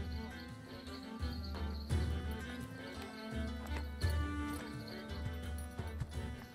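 Horse hooves clopping with occasional whinnies from Age of Empires IV, a relay horse in a Mongol campaign, heard steadily over layered game music and ambience at moderate level.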